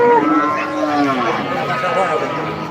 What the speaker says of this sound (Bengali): সারিবদ্ধভাবে বাঁধা আছে অনেকগুলো বড় বড় গরু